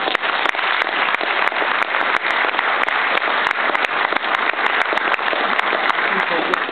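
Sustained applause and clapping for football award recipients at a team awards ceremony, dense and steady throughout with sharp individual claps popping out of the wash.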